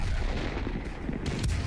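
Tank cannon fire in World of Tanks on PC, a loud booming shot with rumbling roar and a sharp second blast near the end, up close with no talking.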